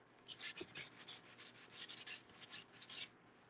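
Short rough strokes of sanding rasp back and forth in an uneven rhythm, close and fairly quiet, with brief pauses between passes.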